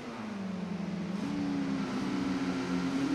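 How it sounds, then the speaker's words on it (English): Race car engines roar down a hill at Sonoma during a heat race, a steady loud drone whose pitch climbs as the cars accelerate. "They come roaring down the hill."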